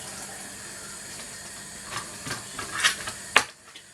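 Vegetables for a creamy chicken, herb and veg casserole being washed under a running kitchen tap, a quiet steady hiss of water with a few louder splashes and clatters toward the end.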